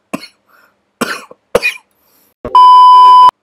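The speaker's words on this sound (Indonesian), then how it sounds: "maaf ada batuk-batuk ya" Several short, sharp coughs close up, separated by pauses, followed by a steady electronic beep tone near the end.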